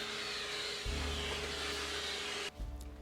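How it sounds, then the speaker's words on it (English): Vacuum cleaner sucking dust out of a 2010 MacBook Pro, a steady close hiss and roar that deepens into a lower drone as the nozzle shifts, then changes pitch near the end. "Now it'll take some time to vacuum out the dust that's accumulated over time."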